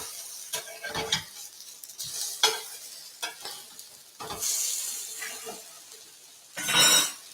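Artichoke hearts fry in oil in a pan with soft, intermittent sizzling and scraping stirs, ending in a louder burst of crackle and a light clink.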